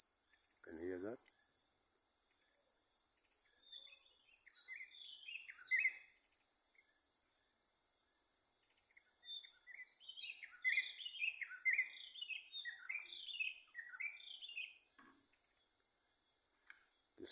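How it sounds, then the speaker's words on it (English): Evening nature ambience: a steady high cricket drone runs throughout while scattered bird chirps and calls come and go at a distance, soft and continuous. "The sounds of the birds in the evening."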